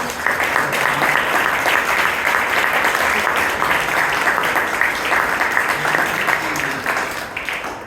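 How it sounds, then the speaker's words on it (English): An audience at a Bangalore Toastmasters meeting gives sustained, even applause, many hands clapping together in a thick wash of sound that holds steady throughout. "we should give a big round of applause to Bhavana"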